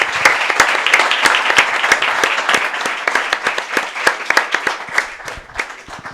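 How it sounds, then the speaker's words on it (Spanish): A strong round of applause from the audience at a book presentation, crisp individual claps close by and thinning out toward the end, with no talking over it. "Un fuerte aplauso, el primero de la noche."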